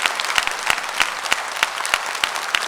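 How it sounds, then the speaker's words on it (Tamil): An audience at a Tamil stage comedy and debate event claps enthusiastically for a speaker, a dense steady burst of applause with sharper individual claps standing out, loud and close. "நீங்கள் ஆர்வமாக கைத்தட்டி நல்லா ஒரு உற்சாகப்படுத்தணும்"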